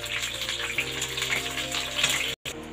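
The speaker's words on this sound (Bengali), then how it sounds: "এবার যেগুলো বাকি থাকলো সেগুলো আরেকবার ভেজে নিচ্ছি" Food frying in a pan at a home kitchen, a steady broadband sizzle and crackle that runs close and continuous, with a brief drop-out near the end before the sizzle resumes.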